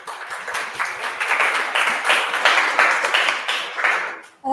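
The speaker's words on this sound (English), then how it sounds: "let's give applause to our speakers today" Audience applause at a PyCon APAC 2024 conference session, a dense patter of many hands clapping steadily for about four seconds before stopping abruptly, fairly close and alone with no talk.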